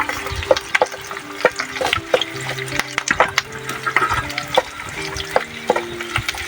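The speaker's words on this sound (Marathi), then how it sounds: "और इसको फ्राई होने देंगे थोड़ा सा." Onion fries in a pan while being stirred. Busy scraping and clattering of a utensil against the pan comes in quick, irregular strokes over a crackling sizzle, fairly close and loud.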